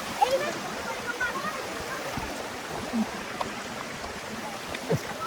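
Water rushing at the Kalidonia waterfall in the Troodos mountains, a faint, steady outdoor wash of spray and flow with a few soft splashy ticks, heard at a distance.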